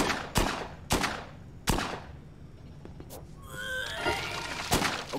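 Gunfire in the video game Dead Rising 2, three loud evenly spaced shots followed by a burst of clatter and a final shot, close and punchy with no talk.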